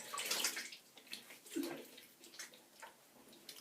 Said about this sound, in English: So I'm just going to rinse my face a little bit.